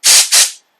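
Two short, loud hissing bursts of carburetor cleaner spray hit a Briggs & Stratton 550EX carburetor, close up, each lasting about a quarter second, with no talk.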